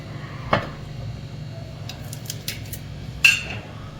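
A spoon clinks against a bowl while adding sauce for a chicken cheese cone filling, with a few brief, separate taps over a quiet background hum.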